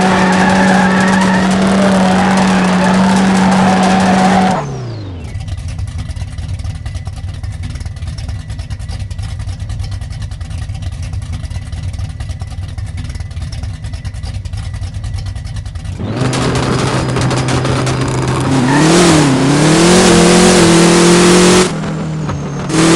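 Drag car in No Limit Drag Racing 2.0 revving loudly, then launching with a sustained roar and tire squeal as it accelerates down the strip, followed by a rising rev again near the end; no talking.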